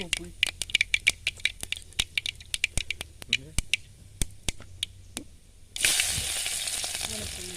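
Spinach (cheera) fries with garlic in a pan, heard as a string of sharp clicks and taps from a spoon or spatula, then a sudden loud, steady sizzle that takes over near the end.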